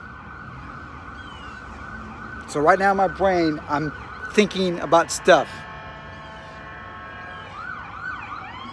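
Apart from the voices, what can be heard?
ambulance siren passing by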